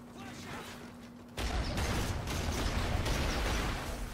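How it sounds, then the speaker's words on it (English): Flashbang grenades detonate in a Call of Duty Ghosts Kill Confirmed match, a sudden loud burst at mid-clip followed by sustained dense blasting, ringing and gunfire-like noise, with a faint steady tone before it. "flashbangs be going off everywhere"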